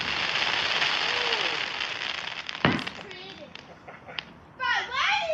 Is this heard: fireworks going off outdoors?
yes